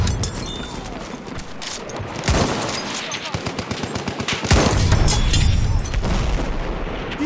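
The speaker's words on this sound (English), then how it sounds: "Look out! Machine gun!" Machine gun fire in Battlefield 1 rattles close and loud, with rapid bursts of shots and heavy booms layered over a dense combat din, with shouted voices mixed in.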